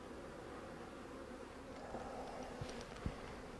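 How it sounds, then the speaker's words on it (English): Honey bees packed densely inside a wet, crowded hive that is about to swarm produce a steady, close, continuous buzz. A few brief knocks and clicks from handling the hive break through the hum. "There's so many bees in here"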